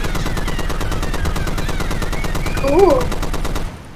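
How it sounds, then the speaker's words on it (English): Rapid video game gunfire with explosive ammo, a fast regular burst of loud shots rattling for about three and a half seconds before stopping abruptly, with a brief exclaimed voice over it. "I still have explosive ammo. I'm gonna shoot from here."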